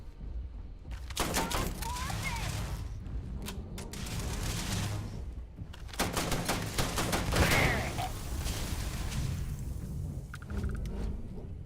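Rapid bursts of gunfire from a robot companion and enemies in Starfield rattle through a noisy firefight, with dense volleys, brief lulls and loud explosive hits, accompanied by a faint voice.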